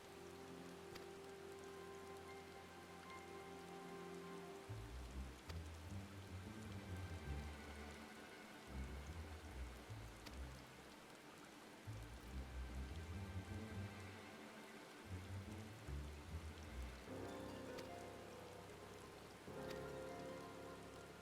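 Steady rain patters across the whole scene in Final Fantasy 14, a constant hiss under swelling low game music, with no voices.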